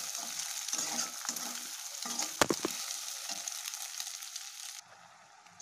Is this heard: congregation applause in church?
no